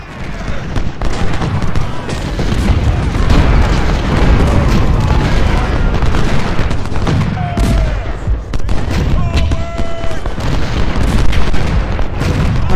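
Cannon and artillery fire in a Civil War battle at Fredericksburg in the strategy game Ultimate General: Civil War, a continuous loud rumble of booms and bursts with scattered louder blasts throughout.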